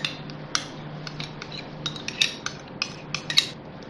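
A metal spoon scrapes and clinks against a bowl while yogurt, lemon juice and spices are mixed into raw beef, giving a series of close, sharp taps in an irregular rhythm with no talk.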